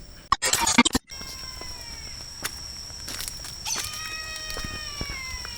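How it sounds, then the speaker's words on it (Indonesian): After a loud burst of noise, an eagle gives long, high, thin cries that slide downward, repeating several times at moderate distance on a mountaintop temple site. "Suara elang."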